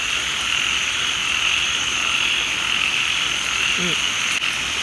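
A dense chorus of frogs croaks loudly and continuously outdoors around a flooded home in Thailand during heavy rain, with steady high-pitched trilling layered over a constant wash of rainfall.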